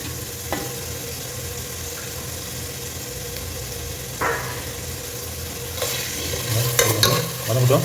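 Whole cinnamon, cloves and cardamom sautéing in ghee for a mutton dum biryani, a steady close sizzle with occasional stirring scrapes and spoon clinks toward the end, no talking.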